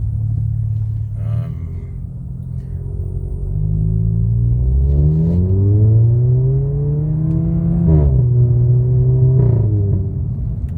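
A Volkswagen's loud, rumbling exhaust drones close by as the engine revs and shifts gears, pitch rising and dropping repeatedly while driving.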